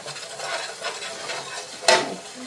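Cube steak browns in a skillet with a soft continuous sizzle and light stirring scrapes, broken by one sharp utensil knock against the pan near the end.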